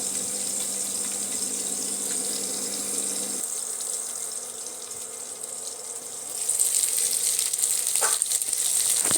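Fish fries in hot mustard oil in a covered wok, a steady hiss and crackle that swells louder near the end with a brief bright scrape; no talking.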